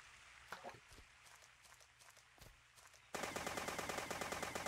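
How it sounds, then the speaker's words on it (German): Rapid automatic gunfire in the blocky Minecraft-style shooter Dead Bits, aimed at trees: a few scattered shots and thuds, then a sudden loud sustained burst of fire near the player. "Ich schieße erstmal die Bäume zu Klump."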